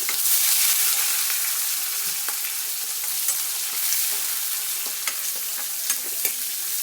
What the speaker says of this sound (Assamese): এইখিনি ভালকৈ ৰঙচুৱা হোৱাকৈ মই ভাজি ল'ম পিয়াজখিনি